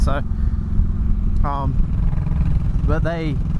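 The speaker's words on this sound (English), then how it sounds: "I don't know if you can hear me over sound of exhaust or not." A 2004 Honda Sabre 1100 motorcycle's exhaust rumbles steadily at idle, close and fairly loud, while someone talks in short bursts over the engine.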